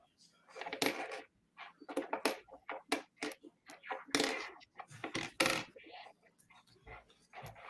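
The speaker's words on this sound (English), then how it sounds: "I guess I'll start going through more coins" Coins being sorted drop and clink onto a hard surface in quick irregular bursts of bright metallic jingles, close and fairly quiet, with short pauses between handfuls.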